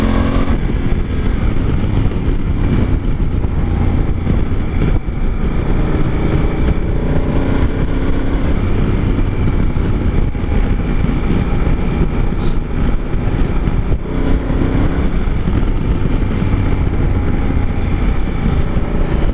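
A 2019 Honda Africa Twin DCT on the move with its engine loud and steady, a constant roar mixed with wind rush that holds throughout, its gear changes not clearly separable.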